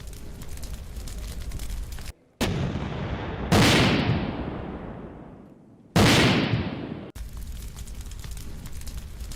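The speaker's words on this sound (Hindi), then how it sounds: "पश्चिम से मिले होवित्जर से रूसी फोर्स पर अटैक की ये तस्वीरें देखिए।" Howitzer artillery fire on Russian forces in wartime: a few heavy booming blasts, each cut off or trailing into a long rumbling decay, loud and close with no talk.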